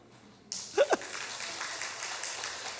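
A church congregation bursts into applause at a Friday evening prayer service, starting abruptly after a quiet moment and continuing as a steady wash of many hands, with a brief voice near the start.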